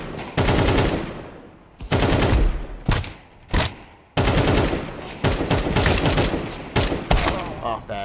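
AK-47 gunfire in Counter-Strike comes as loud, rapid automatic bursts of several shots each, separated by brief pauses and played close through headphones.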